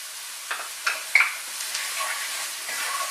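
Pancetta sizzles in a hot pan, a soft steady frying hiss with a few sharp crackles and pops near the start, quiet and close without any talk.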